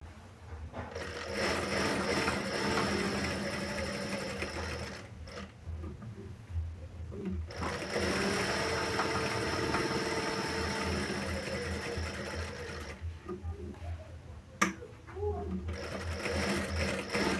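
A sewing machine runs steady basting stitches along a sling bag, its motor humming in long continuous bursts broken by a few short pauses.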